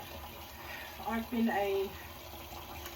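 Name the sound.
water squeezed into a rounded brush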